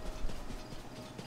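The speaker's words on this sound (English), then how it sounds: "Just so I can pick up my horse." Horse hooves clip-clop near a stable in the video game Zelda: Tears of the Kingdom, a steady soft patter under a dense, noisy game soundscape.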